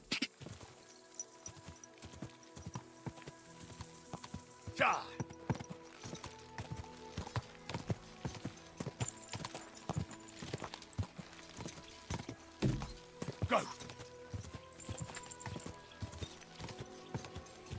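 Horse hooves clip-clop steadily at a walk in Kingdom Come: Deliverance 2, a fairly close, regular stream of hoofbeats over faint game ambience with the occasional snort.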